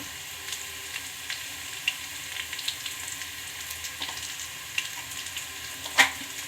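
Onions fry in a pan with salt and turmeric, making a quiet, steady sizzle with a few light taps of a spoon and one louder clink near the end.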